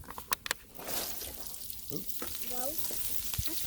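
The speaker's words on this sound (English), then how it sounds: "so now it's time to put this cabbage and the onions on" Cabbage and onions frying on a Blackstone griddle, a steady broadband sizzle after a few sharp clatters as the food is dumped on, with faint speech in the background.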